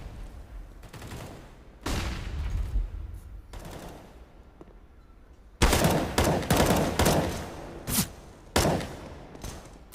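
Desert Eagle pistol fire in Counter-Strike, loud sharp shots in several bursts, with a quieter stretch early on and a denser cluster of closely spaced shots in the second half.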